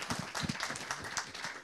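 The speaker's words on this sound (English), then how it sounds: "Round of applause for you," Brief, light applause from a small group, sounding as a few scattered, quiet claps close by for just over a second.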